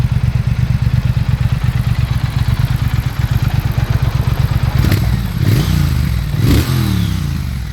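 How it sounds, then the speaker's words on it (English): A Triumph Thruxton RS motorcycle engine idles close by with a rapid, even exhaust putter, then revs twice in sharp bursts before settling back. "Oh, that exhaust just does not do this bike justice."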